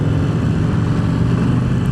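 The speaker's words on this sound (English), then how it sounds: "even the exhaust, the stock exhaust, doesn't sound that bad" A 2025 Harley-Davidson Heritage Classic with its stock exhaust rumbles steadily in a low, even engine drone, loud and close, with no talk over it.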